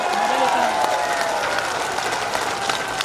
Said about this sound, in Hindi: अरे जोर से ताली बजाओ लखनलाल के लिए